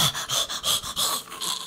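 A person pants heavily in a hot London apartment, with about five quick, rhythmic breaths close to the microphone and no speech.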